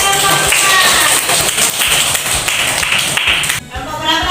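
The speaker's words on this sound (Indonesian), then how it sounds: "tepuk tangan untuk kelompok 4" A classroom group gives applause for the fourth presenting group, with a steady crowd of clapping hands that runs for a few seconds before tapering off.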